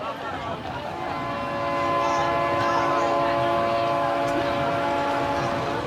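A passenger train in Mozambique rolls along with a steady rumble and drawn-out tonal whine, swelling louder partway through, with faint talk beneath it.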